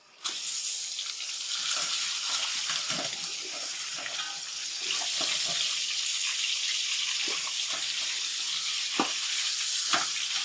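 A kilo of mutton frying in a pan for Sindhi biryani, a steady bright sizzle running throughout with scattered clicks and pops, close and continuous without talk.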